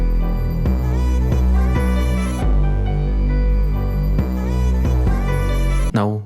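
A deep 808 bass in a beat plays a pattern of sliding, booming notes that follow a bass progression, loud and sustained with rhythmic note changes, and ends in a quick pitch drop.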